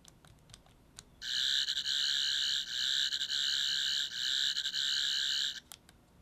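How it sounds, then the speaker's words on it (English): A 12th Doctor sonic screwdriver toy clicks several times as its button is pressed, then gives off a sustained, warbling electronic buzz with a wavering, glitchy pulse for about four seconds before a final click, fairly quiet and close. "hit the button 3 times and then hold it down to get a glitchy sound"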